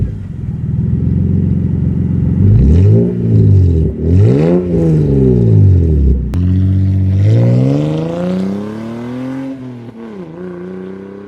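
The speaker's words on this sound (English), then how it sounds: "This is the HKS Carbon TI exhaust for the Toyota Supra" A Toyota Supra MK4 fitted with an HKS Carbon Ti exhaust revs up loudly and close by, sweeping up and down through several throttle blips before settling into a lower, rising drone.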